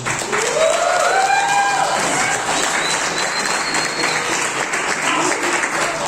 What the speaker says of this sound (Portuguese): podemos aplaudir.